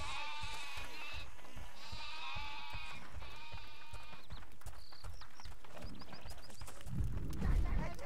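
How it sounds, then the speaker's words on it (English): Sheep bleating in the video game Overlord, several repeated cries with harmonic tones over game music and footsteps, a low thump near the end. "I hear the bleating of lesser creatures, my lord. Yes, there's lots of sheep here."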